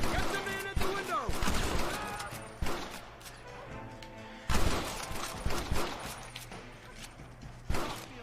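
Gunfire rattles through a Wild West shootout in Red Dead Redemption, with sharp repeated shots and bursts over a busy mix of voices and clatter, loudest at the start and again near the middle and end.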